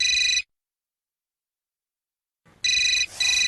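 A telephone ringing in a comedy serial, a bright electronic ringtone burst that stops briefly, then starts again after a short gap, loud and close with no talk.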